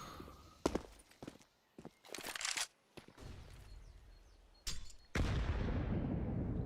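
A grenade blast in the Counter-Strike competitive match, a sharp burst that rolls into a sustained roar near the end, following scattered gunfire and footstep-like clatter, with no voices.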